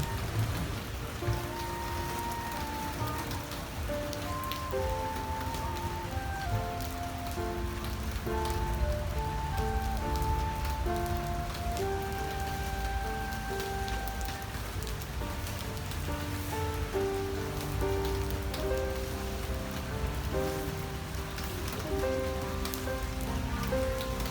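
Rain falls steadily at the Pattaya night market, a dense constant patter that runs under music playing nearby throughout.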